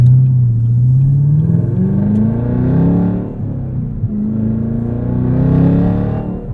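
Engine of a 2022 Chevrolet Camaro ZL1 manual coupe, its loud, close exhaust drone climbing under acceleration, dipping briefly at a shift, then rising again steadily.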